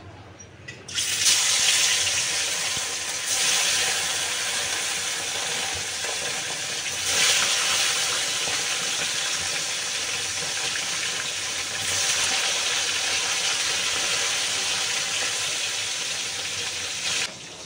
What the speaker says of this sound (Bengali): ওদিকে মাছ ভাজা হচ্ছে, মাছ ভাজা বসিয়ে দিয়ে আমি বসে গেছি